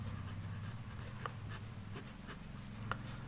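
Pen writing an answer on paper, scratching in faint, irregular strokes under a low, steady electrical hum, close up.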